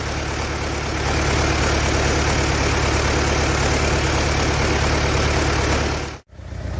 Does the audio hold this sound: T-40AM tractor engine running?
yes